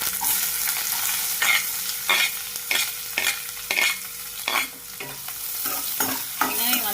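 Onions frying in oil with cumin seeds for a jackfruit seed fry, a constant hiss of sizzling broken by regular clanking stirs of a ladle against the pan, close and prominent without voices.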